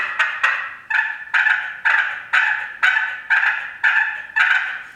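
A Trinity Yelper wooden box call rasps out a run of turkey yelps, about nine loud, close, evenly spaced notes roughly half a second apart, alone with no voices.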